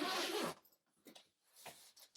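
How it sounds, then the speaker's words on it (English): A bag zipped shut in one long, loud, continuous pull lasting about half a second, followed by a few fainter rustles and handling sounds close by. "We shall zip that up"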